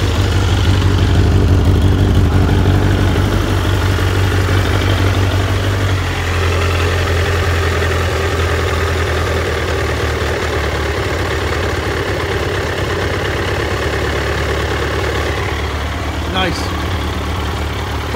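A Triumph Daytona 1200 motorcycle engine idles steadily up close, loud and continuous, its note settling lower after a few seconds as the choke comes off.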